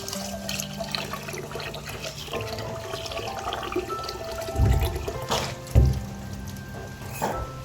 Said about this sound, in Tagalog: lilinisan ko po itong lababo.